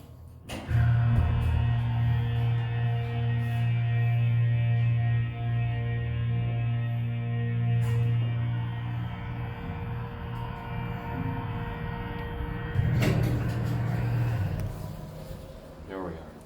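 A hydraulic elevator in a Florida professional plaza hums with a strong low motor drone, then its door rumbles shut with a clunk, while someone speaks over the machinery.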